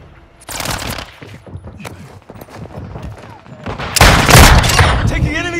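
Rapid enemy gunfire in Call of Duty Modern Warfare 2, sustained automatic bursts with booming hits swelling louder near the end, mixed with game noise and a voice talking underneath.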